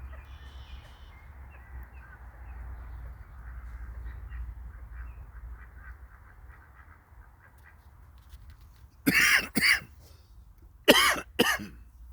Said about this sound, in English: That's some bird action in the water there